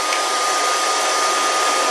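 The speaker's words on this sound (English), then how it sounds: "The hair dryer down there." A hair dryer runs nonstop nearby, a steady, fairly loud whooshing drone of airflow with no breaks or talking.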